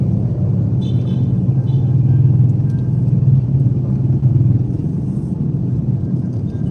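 Cars and SUVs roll past on a busy road, a steady, close engine rumble and tire drone that swells and eases as the vehicles go by.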